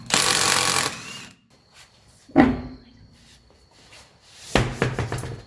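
A rear wheel is taken off a classic Mercedes: a loud mechanical burst of tool noise opens, then a sharp single clunk, and another rattling burst of bursts near the end, with quiet gaps between.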